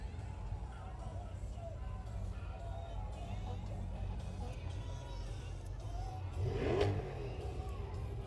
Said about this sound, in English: the car club revving it up